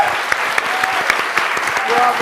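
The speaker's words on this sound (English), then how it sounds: "Let's give them one more round of applause." Audience applause for the performers of a stage musical, dense steady clapping filling the room at a fairly loud level, with a few voices mixed in beneath it.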